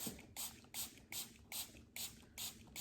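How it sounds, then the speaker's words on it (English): Repeated short hissing sprays from a trigger bottle, seven quick even pumps in a steady rhythm, close and fairly quiet. "go ahead and spray it all over the place"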